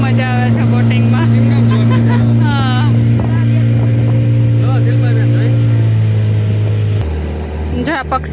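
Motorboat engine on a pleasure boating ride droning loud and steady, its pitch dropping near the end, with people talking over it throughout.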